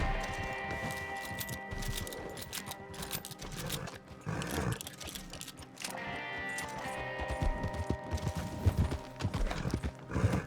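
A horse gallops in Red Dead Redemption with rapid, rhythmic hoofbeats, close and steady, joined by a neigh partway through and a few brief bursts of game effects.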